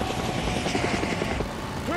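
A helicopter in the Days Gone video game drones steadily with a loud rotor chop, while someone talks over it throughout.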